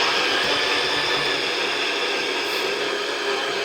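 A blender blitzing oats into fine powder, a loud steady whirring roar that holds unbroken from start to finish with no voices over it.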